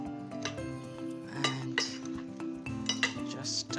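Fresh pappardelle gets tossed in a pan with basil, parsley and walnut pesto, producing repeated metallic clinks and scrapes of utensil against pan in uneven bursts, close and fairly loud, with a voice speaking over it.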